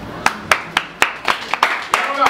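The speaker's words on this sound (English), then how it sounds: "I don't need sympathy claps." Scattered claps come from a small audience at an academy event, sharp separate hand claps spaced apart, fairly close and a little uneven, with no talk over them.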